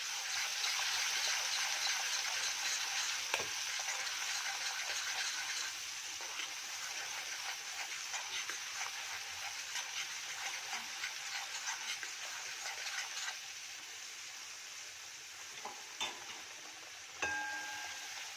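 Cabbage and peas sabzi cooks in oil in a pan, giving a steady soft sizzle that runs on throughout, with a few scattered ticks and clinks of a utensil.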